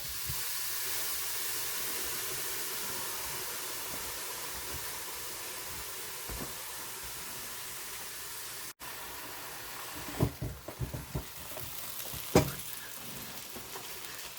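Hamburger patties sizzle inside a closed George Foreman grill, a steady soft hiss like light rain that continues evenly, with a few faint clicks and knocks toward the end.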